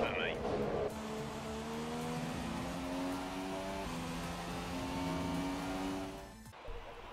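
McLaren Honda Formula 1 car engine in the F1 2017 video game, crossing the finish line at the Australian Grand Prix: a sustained high whining drone with rising pitch, then a brief drop, with a voice talking over it.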